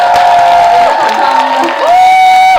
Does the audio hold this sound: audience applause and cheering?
yes